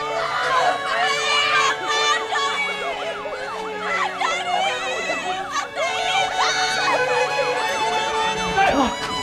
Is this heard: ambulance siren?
yes